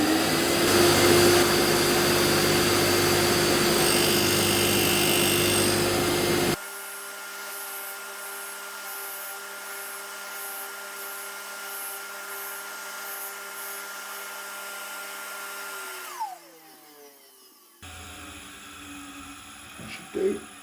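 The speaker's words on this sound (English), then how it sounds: "We're grinding on the bottom of the wheel because otherwise the wheel will take off the bottom of the tool holder." A grinding wheel grinds a 60-degree tool bit, a loud steady whine with a constant tone that drops to a quieter hum partway through, then fades as the wheel spins down, with a brief clatter at the end.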